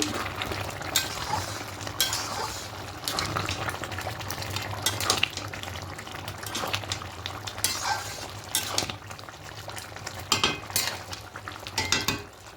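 Chicken keema pulao made with rice being stirred in a pot, with a continuous sizzle and repeated scraping and clinking of a utensil against the pot, close and steady throughout.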